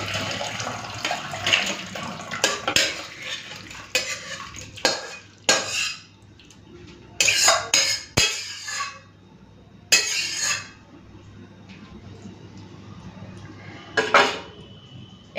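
Egg curry with cauliflower and potato is poured from a pot. Close metallic scrapes and clanks of utensil on cookware come in uneven bursts, mixed with wet, liquid sounds.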